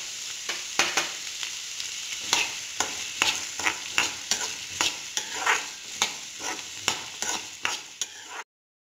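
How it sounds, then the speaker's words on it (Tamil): Onions sauté in oil in a pan for onion chutney: a continuous loud sizzle broken by regular scraping strokes of a spatula, roughly one or two per second, close up and without talk, ending abruptly. "இப்போ வெங்காயத்தை போட்டு அதே எண்ணெயில்"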